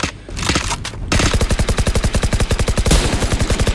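Automatic gunfire in the video game Valorant, a fast steady burst of loud, evenly spaced shots following a couple of heavier single blasts, close and dominant throughout.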